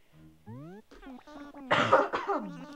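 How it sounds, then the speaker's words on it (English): A person clears their throat with a few rough, voiced bursts, loud and close, with some low vocal sounds before. "I had to clear my throat"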